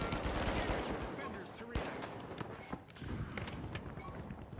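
Rapid turret gunfire in the first-person shooter The Finals, a dense string of sharp shots running nearly the whole time, loud and close, with game noise and a faint voice underneath.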